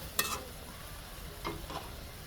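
Spiced pangas fish curry with winter vegetables sautéing in a pan: a soft steady sizzle with two brief bursts of spoon stirring and scraping, quiet and close, no voices.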